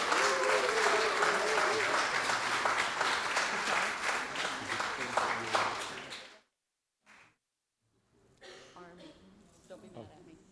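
An audience at a community meeting applauds the facility manager with warm, sustained clapping and cheers that swell and then fade. It breaks off into silence, followed by quieter room sounds and a voice.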